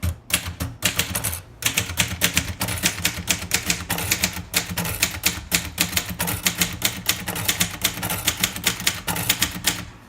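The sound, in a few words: typing on a 1956 Royal Quiet De Luxe typewriter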